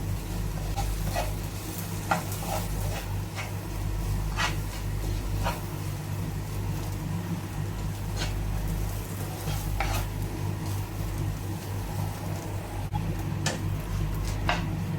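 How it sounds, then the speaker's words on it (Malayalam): Clams being sautéed for a Kerala-style clam roast with Kashmiri chili powder and turmeric, giving a steady close sizzle under scattered sharp scrapes of a spoon stirring in the pan. "നന്നായിട്ട് വഴറ്റിയെടുക്കാം."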